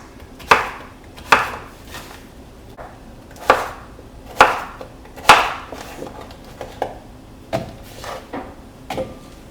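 Knife chopping through a vegetable into half-inch moons on a cutting board, about a dozen crisp, separate thuds at an uneven pace, close and moderately loud, with no talking.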